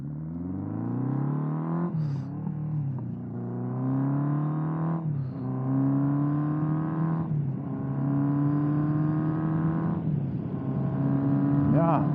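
1979 Honda CB750F Super Sport inline-four motorcycle accelerating through the gears, a rising engine whine repeated in four pulls, each broken by a brief dip at a gear change, loud and steady throughout.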